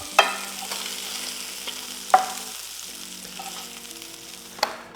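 Scallops searing in a hot pan, a steady close sizzle with a few sharp clicks or taps at intervals and a faint tonal hum underneath.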